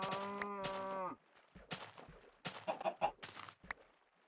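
Minecraft video game cow moos alongside clucking chickens: a long drawn moo up front, then scattered short animal calls and clucks, close and clear.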